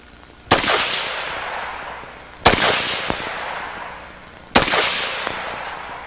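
Three sharp, loud rifle reports from a Walther WA2000 self-loading rifle chambered in .300 Win Mag, each about two seconds apart with a ringing decay, fired at an outdoor range.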